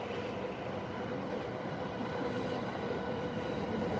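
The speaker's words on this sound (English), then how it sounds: "Local train versus bullet train." A train runs steadily past at a distance, with a continuous rumble and a rolling rail roar, as a Shinkansen bullet train and a Yamanote line local train travel side by side at Tokyo Station.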